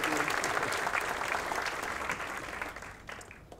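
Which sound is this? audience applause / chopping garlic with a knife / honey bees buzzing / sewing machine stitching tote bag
audience applause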